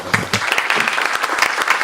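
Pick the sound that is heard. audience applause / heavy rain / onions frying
audience applause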